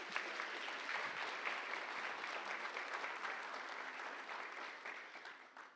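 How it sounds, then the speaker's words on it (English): Sustained audience applause at a university startup showcase event, a dense steady wash of many hands clapping that holds at full strength for several seconds before tapering slightly toward the end. "So a big round of applause for Joanne"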